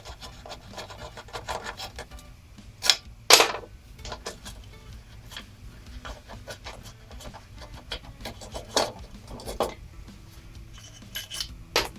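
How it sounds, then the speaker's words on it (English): A screwdriver prying a part off a lawnmower engine, with scraping, rubbing metal and a few sharp clanks and knocks, close up and uneven, spread across the span with no talking. "And just use a screwdriver to pull it off the rest of the way."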